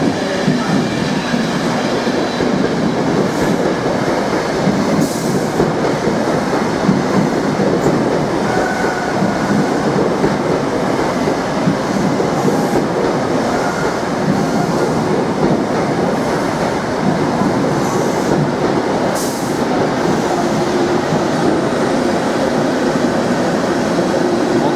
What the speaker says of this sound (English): Right, we've got the 14:31 service to Norwich, now arriving. Here it comes.